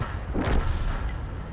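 M44 self-propelled artillery gun firing in World of Tanks: a single deep, booming shot with a rumbling tail, loud and close, no talk.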